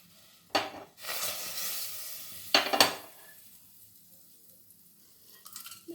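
Cinnamon, cloves, cardamom and bay leaf hit melted butter in a pan with two loud hissing bursts that settle into quieter sizzling. Light utensil clinks follow near the end.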